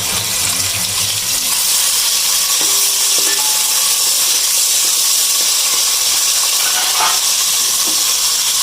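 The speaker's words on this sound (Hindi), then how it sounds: "अब अदरक लहसुन का पेस्ट जा रहा है" Ginger garlic paste added to browned onions in a hot pan for aloo keema, giving a steady, loud, close sizzle and hiss that continues throughout without talk.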